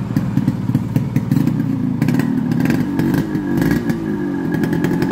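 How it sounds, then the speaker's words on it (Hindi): A Yamaha RX100 two-stroke motorcycle idles on its stand, its engine putting out a loud, close, rapid popping beat that rises briefly in a light rev midway. "स्टार्ट करो, ये गाड़ी आपकी स्टार्ट खड़ी हुई है"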